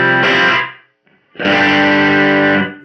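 An electric guitar runs through a Keeley Verb O' Trem reverb pedal with the effect level turned fully up and a short decay, giving two loud strummed chords with a brief gap between them and lingering reverb tails.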